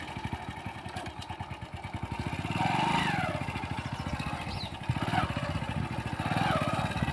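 A motorcycle engine runs nearby at a steady idle, its rapid, even thumping pulses rising briefly in pitch and loudness midway before settling back.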